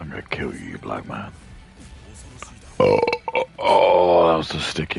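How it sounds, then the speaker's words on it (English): A person lets out a loud, drawn-out, sticky burp right after a stretch of casual talking, close and prominent, with voice sounds mixed around it. "that was the stickiest burp I've done in like a really long time"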